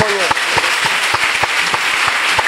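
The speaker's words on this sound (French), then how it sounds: "Acclamons pour Jésus-Christ." A crowd at a church convention claps steadily and rhythmically in a continuous wash of applause, with voices mixed in.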